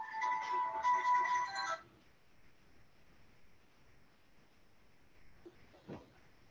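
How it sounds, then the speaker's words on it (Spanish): A cell phone rings with an incoming call, a loud tonal electronic melody with repeated bursts that stops abruptly after under two seconds, followed by quiet room hiss and a faint knock. "justo entró una llamada en mi celular"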